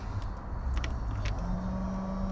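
A bilge pump on a junky, washed-up boat, powered from a 4000-amp jump starter, starts partway through as a steady low motor hum over a noisy, rumbling background.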